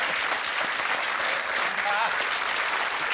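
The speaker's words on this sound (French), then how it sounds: "Je crois qu'on peut l'applaudir, il est là ce soir d'ailleurs." Dense, steady applause from a theatre audience at a live comedy show, filling the whole moment at even loudness, with a voice briefly audible underneath.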